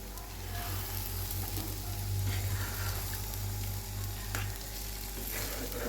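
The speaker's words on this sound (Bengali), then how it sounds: "এইখানে এই যে ডিম ফেটিয়ে রেখেছি দুটো এটা দিয়ে দিচ্ছি একটু মিশিয়ে নিই" Beaten eggs hit a hot pan and are stirred, giving a close, steady, crackling sizzle with soft scraping, and no talking over it.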